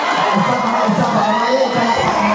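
A crowd cheers and shouts excitedly at a school show at a college in Tangub City, with high children's voices and a continuous loud roar filling the whole stretch.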